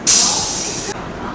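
A Humsafar Express pulling into platform 14 at Sealdah station lets out one loud, sharp hiss of air or steam lasting just under a second, then drops back to a low, steady platform hum.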